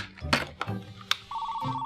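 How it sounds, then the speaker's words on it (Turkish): A telephone starts ringing in a home, with a steady electronic ring tone after a few clattering knocks and brief voice sounds from a pretend kitchen game. "telefon çalıyor"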